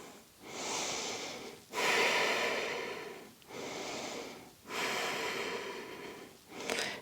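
Slow, deep yoga breaths held in a plank pose: four long, airy inhale-exhale cycles of roughly a second and a half each, close and fairly soft, with no talking.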